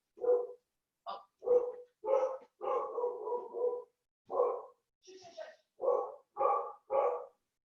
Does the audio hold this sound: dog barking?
yes